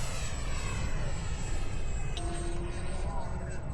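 A Freewing F-22A Raptor 80mm EDF radio-controlled jet takes off on an overcast, windy day, its turbine-like roar sustained and fairly loud with a rising whine. Wind buffets the mic, and a voice talks briefly.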